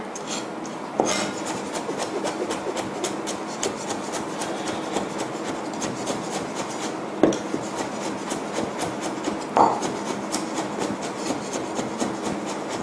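Steady, rapid knife strokes tap on a cutting board in an even rhythm for several seconds, with a few sharper knocks mixed in.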